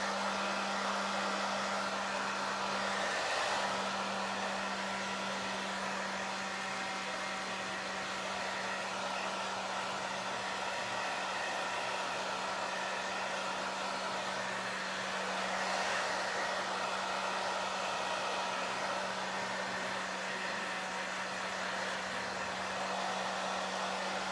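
A hair dryer blows steadily for a long stretch, a constant whooshing hum with a faint motor whine, heard up close and alone.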